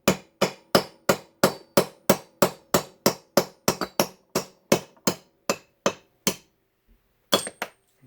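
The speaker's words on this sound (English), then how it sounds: "I'm going to take this hammer, hopefully you can see here, and I'm going to hit these right out of here." Hammer blows knocking the connecting rod bolts out of a Ford 302 rod: about sixteen sharp metallic strikes in a steady rhythm, close and loud. A short pause follows, then two final quick hits.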